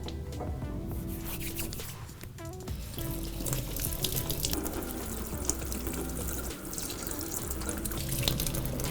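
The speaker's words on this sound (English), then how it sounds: "I start by washing my hands." Hands being washed under a running sink tap: a continuous, close splashing water stream with small shifts as hands move through it, steady throughout with no speech.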